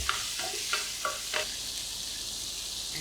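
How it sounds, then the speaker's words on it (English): Seafood is stir-fried with chili and garlic in a hot pan for Thai drunken noodles, with a continuous sizzle and a few sharp scraping clacks of the utensil early on, then steady frying alone. "then add seafood. Stir fry a little bit"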